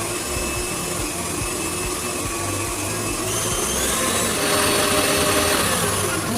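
An electric mixer whirs steadily through honey cake batter, a continuous motor hum with a high whine that rises slightly in pitch and loudness toward the end.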